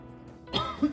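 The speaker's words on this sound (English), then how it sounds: "It makes me cough when it's really strong." A single short, close cough, with a brief throat-clearing rasp.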